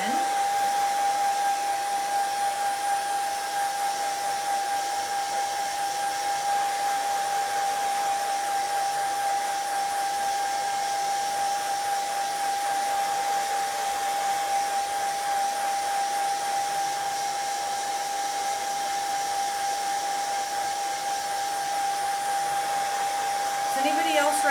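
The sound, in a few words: hair dryer drying a transfer on a 2x4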